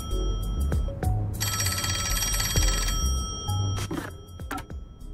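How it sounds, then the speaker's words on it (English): A telephone rings in the detective video game Master Detective Archives: Raincode. A loud, rapid trilling bell burst of about a second and a half stands out among scattered clicks and game sounds, with no talking. "I can still hear the phone."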